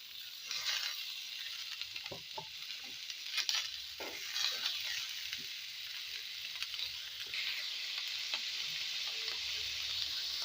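Young sweet pumpkin and tender bottle gourd peel fry in a pan, giving a steady close sizzle with occasional stirring scrapes and no voices.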